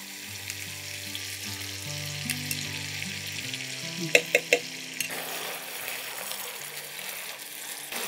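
Raw tomato paste frying in a pan for an ilish (hilsa fish) dish, a steady close sizzle with a few light clinks of a utensil against the pan partway through, and no talking.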